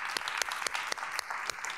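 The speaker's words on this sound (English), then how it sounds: "Round of applause for the Gathering Spot." A live studio audience at a Juneteenth town hall celebration applauds, a brief burst of dense, close clapping that keeps up evenly with no voices over it.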